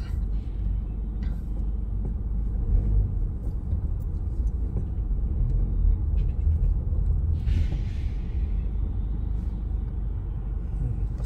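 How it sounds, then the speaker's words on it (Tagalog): A truck rumbles past on a snowy road, a steady low engine drone heard from inside a vehicle, moderately loud and continuous. "May truck."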